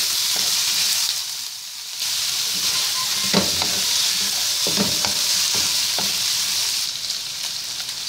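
Pork for laing fries in a pan with continuous sizzling and hissing, broken by a few scraping stirs, with no talk.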